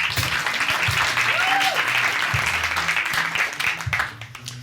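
An audience applauds loudly during a science storytelling show, steady dense clapping filling the room with a brief voice and low thumps beneath, fading slightly at the end.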